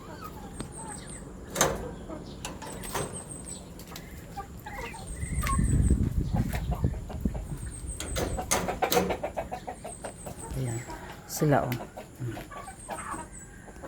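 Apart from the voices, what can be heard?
chickens clucking in a backyard coop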